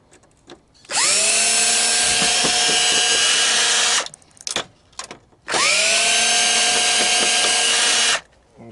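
Power screwdriver backing screws out of scrap metal, two long whirring runs of the motor, each spinning up and holding steady for several seconds, separated by a pause with small clicks and handling noises, close and loud.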